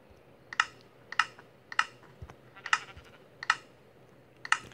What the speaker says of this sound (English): there's too much clicking